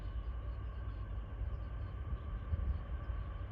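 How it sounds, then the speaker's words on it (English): A Union Pacific freight interchange train rolls past with a low continuous rumble and steady mechanical drone, heavy bass throughout and a few louder clanks as the cars go by. "This is probably a UP interchange train for Proviso."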